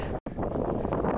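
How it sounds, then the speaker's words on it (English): Wind in Turks and Caicos buffets the microphone with a rough, blustery roar, broken by a brief dropout near the start. "It's been very windy."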